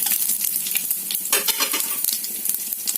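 Chana dal fries in hot oil with a dense, continuous sizzle, broken by the scrape of a spoon stirring the lentils close by.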